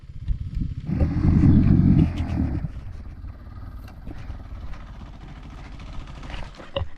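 A small 70cc motorcycle engine at a cliff edge surges in a loud rev lasting about a second, then drops back to a lower, uneven putter with scattered clattering.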